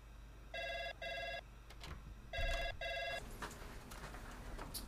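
A telephone rings in two bursts, each a pair of short electronic trills, heard fairly near in a quiet room with faint background noise between rings.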